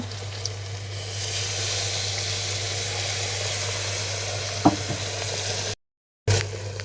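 Water poured into a hot pan of spice paste for a vegetable curry with gravy hisses in a steady, loud sizzle, with a brief clink of a utensil and a short cut-out near the end.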